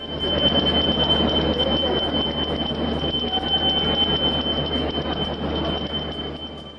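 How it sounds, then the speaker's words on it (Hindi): A Ramayana Express train arrives at Sitamarhi railway station, giving a steady loud rumble of railcars with a high sustained squeal running throughout, and no voices. "राम की नगरी से चलकर जानकी धाम पहुंची रामायण सर्किट ट्रेन का श्री राम के जयघोष से स्वागत"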